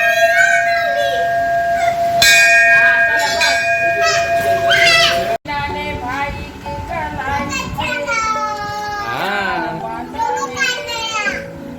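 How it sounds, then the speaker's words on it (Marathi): A bell rung repeatedly at a highway hotel, sustained ringing tones at the start that fade into a busy scene of children's excited voices and chatter. "ज्याला फालुदा आवडला त्यांनी घंटा वाजवा"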